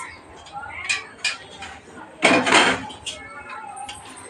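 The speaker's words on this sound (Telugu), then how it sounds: "ముందుగా మనం ఒక గిన్నె తీసుకుంటున్నాం" Kitchen utensils clatter as a bowl is taken out, with a few light clinks and one louder clattering burst, heard close under a person talking.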